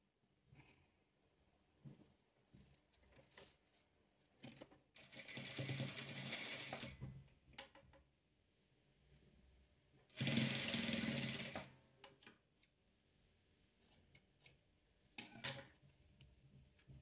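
A sewing machine stitches red fabric into a wheat-ear patchwork block in two steady bursts of rapid whirring, separated by quiet pauses with faint handling clicks.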